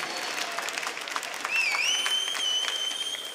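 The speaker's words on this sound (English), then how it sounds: "The crowd has woken up" Crowd at a Rainbow Six Six Invitational 2018 esports match between Evil Geniuses and Rogue, steady applause and cheering swelling over an arena sound system with a sustained electronic tone in the background.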